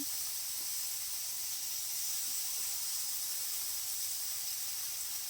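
Cauliflower and potatoes fry in a pan with a steady, unbroken hiss that holds evenly throughout, close and moderately loud with no other sounds.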